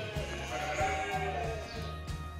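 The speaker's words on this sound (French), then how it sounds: "Alors là, c'est les agnelles." Ewe lambs bleating in a sheepfold, many overlapping wavering cries forming a continuous chorus, close and moderately loud, with no voices over it.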